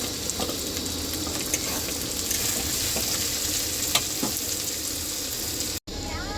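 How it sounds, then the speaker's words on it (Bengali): Onion frying in a pan with ginger, garlic and chili, a steady close sizzle with occasional stirring scrapes, broken by a brief cut near the end, with no talking. "এবার পেঁয়াজটা দিয়ে দিলাম। পেঁয়াজটা ওর সাথে ভালো করে ভেজে নেবো।"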